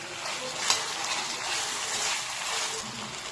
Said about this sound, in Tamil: இப்போ நம்ம வெங்காயம் குடமிளகா நல்லா வதங்கி வந்துருச்சு.